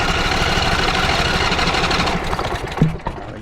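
A Craftsman lawn tractor engine runs close by with a steady, rapid chugging idle, then sputters and falters near the end before a brief knock.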